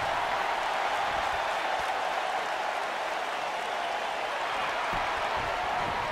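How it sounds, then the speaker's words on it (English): Steady, loud crowd roar from a wrestling video game match, a continuous wash of cheering and applause with no break, sounding like a packed arena audience all around. "the crowd is fired up"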